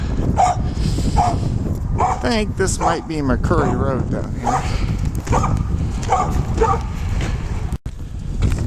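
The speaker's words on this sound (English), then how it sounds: "A couple of dogs came out to say hello" Dogs bark and yip in a scuffle amid outdoor noise, while a person speaks briefly over the commotion.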